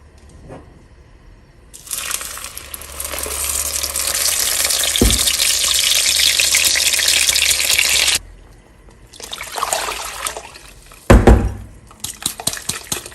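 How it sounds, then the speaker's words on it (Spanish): Blended chile sauce hits a pot with a little oil and sizzles loudly and steadily for several seconds, followed by softer stirring and a few clanks. "Lo vamos a agregar en una cacerola con un poquito de aceite"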